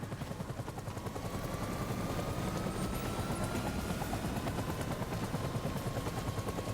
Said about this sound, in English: That was a helicopter taking off.